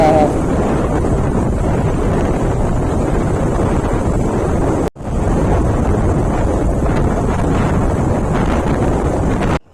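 Heavy wind noise buffets the microphone while a motorbike rides slowly, a loud, steady roar broken by a brief dropout midway, with voices faintly mixed in.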